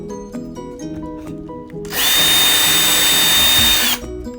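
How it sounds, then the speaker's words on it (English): A power drill bores a hole for a bracket in a school bus conversion, starting with quieter background noise before one loud, steady burst of drilling lasting about two seconds, close up. "now I'm gonna drill another hole here, and then put the bracket"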